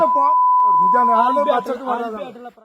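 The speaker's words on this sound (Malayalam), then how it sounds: "ബീപ് സൗണ്ട് ഇട്ടല്ലാതെ കേൾപ്പിക്കാൻ പറ്റാത്ത അവസ്ഥയാണ്" A loud, steady censor beep runs for well over a second, covering a man's angry swearing at a village gram sabha dispute, and then his heated talk carries on uncensored.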